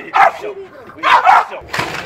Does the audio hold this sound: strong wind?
no